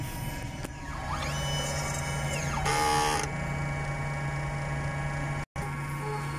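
A DTF printer runs a head-cleaning cycle, whirring steadily with mechanical sweeps that rise and fall, then a brief buzzing burst, over a constant hum, ending in a sudden short dropout.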